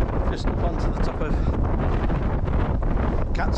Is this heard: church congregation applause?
no